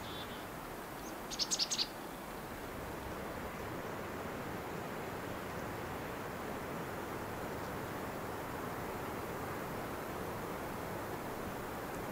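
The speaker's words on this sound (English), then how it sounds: "Birds have been great on this trip, and they often come by camp for a visit." Small birds, such as black-capped chickadees and red-breasted nuthatches, give a brief, faint chirp early on at a snowy winter camp, heard over a steady roar of distant wind.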